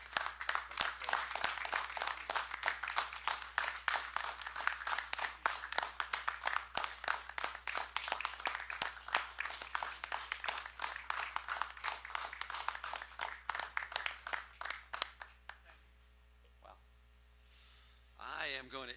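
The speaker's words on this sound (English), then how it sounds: "I'd like to applaud you. So if everybody would join me" Audience in a City of Madison Common Council meeting room applauds, a long run of sharp, scattered hand claps over a low electrical hum, tapering off near the end as a voice starts to speak.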